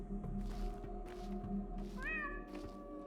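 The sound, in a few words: cat meowing in the video game Pathologic 2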